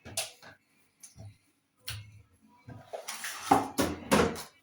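Rinsed chicken pieces are arranged one at a time in a baking tray with potatoes, giving scattered soft clunks and taps, then a denser run of knocks and rattles near the end, close by.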